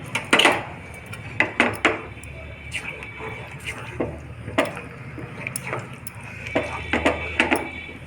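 A spoon scrapes and knocks against a pan as Karachi halwa made with cornflour is stirred and ghee is added a little at a time, giving irregular close clanks and scrapes under quiet background noise.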